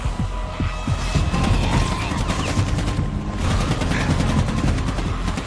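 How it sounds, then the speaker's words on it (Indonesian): Rapid bursts of gunfire as Marshall shoots zombies in a dead city, dense and loud with continuous crackling shots over a deep throbbing rumble. "datang dan langsung menembak para zombinya"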